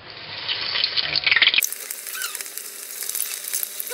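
Breaded cordon bleu frying in hot oil, a bright crackling sizzle that swells loudly for a moment, then settles into a steady hiss.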